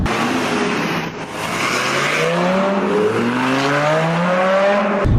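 Lamborghini with exhaust valves open, a loud, close engine note rising steadily in pitch as it revs and accelerates, with a brief dip partway through.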